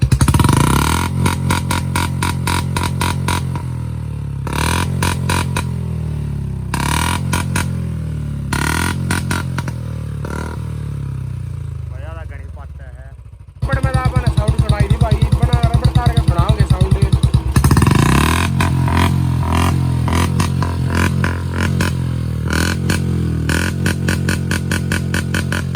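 Royal Enfield Bullet motorcycle fitted with an aftermarket silencer, idling with a deep, steady thump that swells in loud revving bursts, close by, with voices talking over it.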